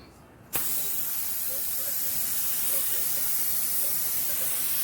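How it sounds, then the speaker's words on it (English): A paint spray gun for car body repair starts with a sudden burst, then hisses in one loud, steady stream of air and paint onto paper, at 10 to 15 pounds of air pressure. "I like to spray on the paper so you can see if it's spraying right"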